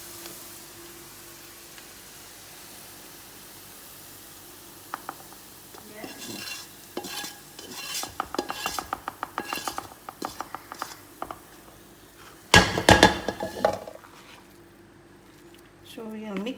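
Onions and spices are stirred into potatoes in a pan. After a quiet start, a spoon scrapes and taps rhythmically against the pan, with a louder clatter near the end and some talk in the background.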